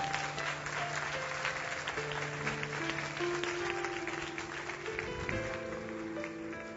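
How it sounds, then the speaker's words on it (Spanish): A church congregation applauding during a sermon, a sustained, fairly soft patter of many hands clapping, with sustained musical tones playing underneath. "Dale un aplauso de verdad a Él."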